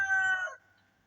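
Chickens on a farm, a mother hen kept with her small chicks, give one short harmonic cackle that sounds like a crow or call. It lasts about half a second, is fairly close and clear, and fades into quiet.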